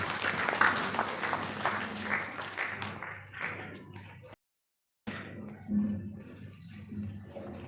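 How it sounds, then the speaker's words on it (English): An audience at a DAV Public School event in Sainik Colony, Faridabad, claps in a steady, moderately loud round of applause that breaks off briefly before resuming more sparsely. "please clap hands and give her a big round of applause"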